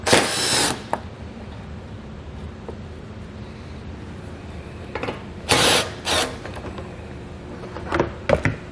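Bolts being loosened with a 5/16 socket while a front-mount trailer hitch receiver is installed, heard as a loud opening burst of tool noise followed by sporadic clicks and several short, sharp mechanical bursts over background hum.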